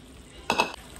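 Bacon hits a hot pan in a brief burst of hissing sizzle that rises sharply for a moment, as if stirred, then settles back to a quiet background.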